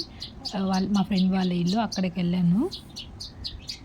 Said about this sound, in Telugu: వెనకాల పిచ్చుకలు సౌండ్ చేస్తున్నాయి చాలా బాగుంది కదా